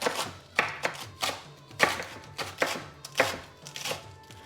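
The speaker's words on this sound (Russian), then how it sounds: "Берем такой хороший большой пучок лука. И нарезаем его так мелко-мелко." A knife finely chops a large bunch of green onions on a board, about nine distinct, close, sharp strokes in an uneven rhythm, with no talking.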